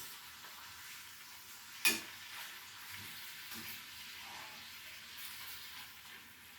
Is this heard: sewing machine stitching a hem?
no